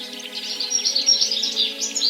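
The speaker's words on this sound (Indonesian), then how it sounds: "European goldfinch adalah spesies burung kecil yang ditemukan di sebagian besar Eropa, Afrika Utara, dan Asia Barat." A European goldfinch (Carduelis carduelis) calls with quick, bright twittering chirps in a continuous fluttering run, fairly close and clear with no voices.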